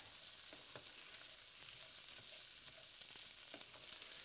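Corn kernels and tomatoes sizzle steadily in a hot sauté pan, a constant frying hiss broken by soft scraping stirs that come roughly every half second, close up with no talking.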